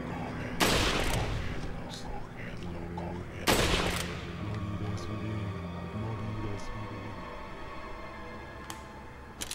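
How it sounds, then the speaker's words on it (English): Rifle shots in the survival horror game Resident Evil 4: two loud, sharp blasts a few seconds apart, each with a short ringing tail, over steady game ambience and a speaking voice. "I have to use the rifles."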